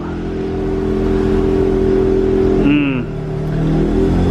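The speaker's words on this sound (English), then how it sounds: "So we're gonna let both cars go ahead and warm up." A Mazda RX-8 and another car idle together in a garage while warming up, a steady, close engine drone with a short shift in pitch near the end.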